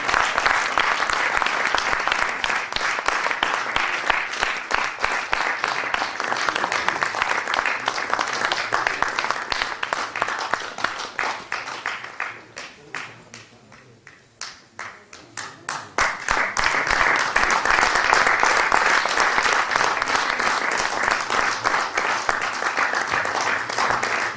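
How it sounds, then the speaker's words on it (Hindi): Sustained audience applause at a college batch reunion event, a long, dense round of clapping that dips briefly in the middle before swelling back up and continuing strongly. "हाँ, तो तालियां बजती रहना ही है।"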